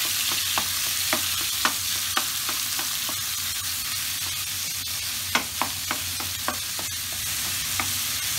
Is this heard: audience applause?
no